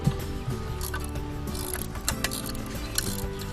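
A ratchet clicks in quick repeated strokes while a Do-All Outdoors Aerial Assault auto trap accessory is tightened onto its legs. The ratcheting is close and mechanical, with a few louder clacks.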